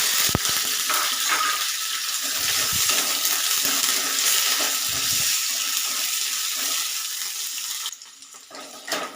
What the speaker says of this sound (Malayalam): ഒരു ഉരുളക്കിഴങ്ങും ഒരു വെണ്ടയ്ക്ക എടുത്തിട്ടുണ്ട് അത് എണ്ണയിലോട്ട് ഇട്ട് കൊടുക്കും ലൈറ്റായിട്ടൊന്ന് വറുത്തെടുക്കണം